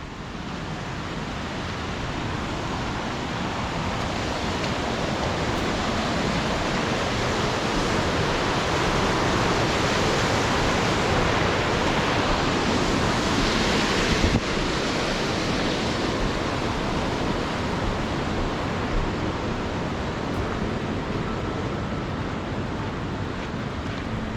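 Steady, loud rushing of a river at a trail crossing by a bridge on the John Muir Trail, a dense unbroken roar of flowing water lasting throughout with no voices.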